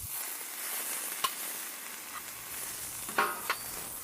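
Brown onions frying in a pan, a soft hissing sizzle with a couple of sharp clicks and scrapes as they are stirred, faint and steady.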